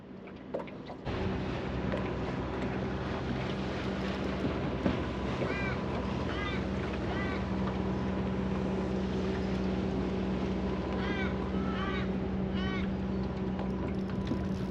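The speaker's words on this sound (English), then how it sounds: "So that boat's gone past me" A motorboat engine drones steadily as it passes on a river, a low continuous hum with wind buffeting the microphone and birds chirping now and then.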